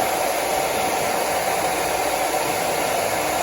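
A blow dryer roars steadily at close range with a constant whooshing hiss, then cuts off abruptly at the end.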